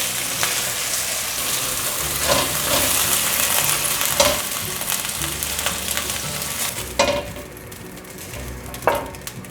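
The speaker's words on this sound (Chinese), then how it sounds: "再继续煎，另一面变成焦黄色了" Tofu skin pan-fries in oil, a continuous close sizzle and crackle broken by occasional scraping and spatula clatter against the pan, with no talking.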